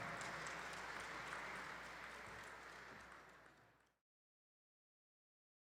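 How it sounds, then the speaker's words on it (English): Applause from a dinner audience at a university awards event, a dense, steady clapping that tapers off over about four seconds, then stops into silence. "And you can applaud now."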